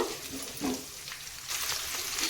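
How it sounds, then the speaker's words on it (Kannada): Finely chopped beans fry in hot oil for a simple chitranna, a soft continuous sizzle with a few stirring scrapes, quiet and close, no voices. "ಈಗ ಇದಕ್ಕೆ ಸ್ವಲ್ಪ ಬೀನ್ಸ್ ಹಾಕ್ತಾಯಿದ್ದೀನಿ ಕಟ್ ಮಾಡಿ ಸಣ್ಣದಾಗಿ ಇದು ಕೂಡ ಈಗ ಎಣ್ಣೆಯಲ್ಲಿ ಫ್ರೈ ಆಗಬೇಕು"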